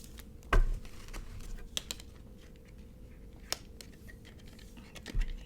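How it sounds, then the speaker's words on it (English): Cards of a Buffy the Vampire Slayer tarot deck being shuffled by hand, giving a few quiet, scattered riffles and soft taps against a faint background hiss, with no talking. "So we are going to do a bit of shuffling."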